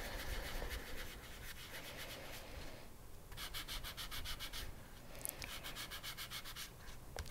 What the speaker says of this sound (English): now I'm going to be sanding these surfaces